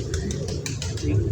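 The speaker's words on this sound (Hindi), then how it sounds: "ये कबूतर मेरे हाथ में आया है" A pigeon held in the hand coos at close range, with low, throaty rolling calls over a faint background of handling noise.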